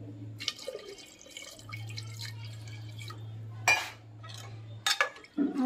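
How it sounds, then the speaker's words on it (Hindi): A little more water is poured into salted rice in a cooking pot, giving short splashes and drips, with metal and glass clinks and a low steady hum underneath. "अभी भी इसमें थोड़ा सा पानी कम लगा है मुझे, थोड़ा सा और डाल दें।"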